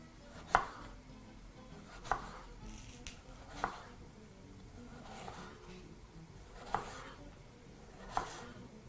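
A knife slices through a raw potato for a rosemary chicken potato bake, giving about six sharp, separate cutting clicks spaced unevenly over quiet kitchen background.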